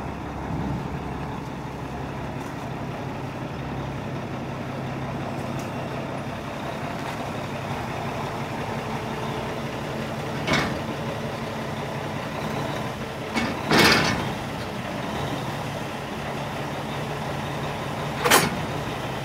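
A truck engine idles steadily at a low rumble for the whole stretch, with a few sharp clunks and knocks from hitching work on a trailer rising over it, no voices heard.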